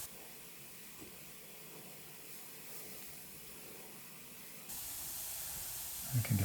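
An airbrush sprays paint in a soft, faint steady hiss for freehand detail work, growing louder near the end before a brief thump.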